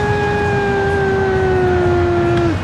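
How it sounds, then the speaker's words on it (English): American fire engine siren on a street, a loud steady wail holding its tone for over two seconds before dropping abruptly, over a constant rumble of traffic. "That is the sound of a fire engine in America."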